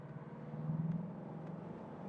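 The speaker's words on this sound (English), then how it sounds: "It's a very, very beautiful acceleration, you know, like this raw power." Mercedes W126 S-Class 560 SEL accelerating downhill, its engine a steady low rumble that swells slightly as speed builds, close and continuous with no talk.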